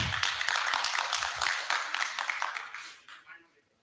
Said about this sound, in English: We'll give her a hand of applause.